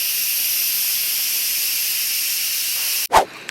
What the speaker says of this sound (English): adjusting the nozzle to manually release the rest of the pressure